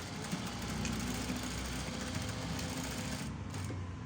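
A sewing machine stitches the hem of a boat-neck kurti, a steady, close mechanical hum with fast, even needle chatter running without pause.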